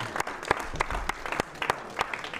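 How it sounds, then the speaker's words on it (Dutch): Sparse, uneven clapping from a small group at a Dutch panel discussion, a handful of distinct close claps rising briefly and fading. "klappen we dan? Ik klap voor jullie."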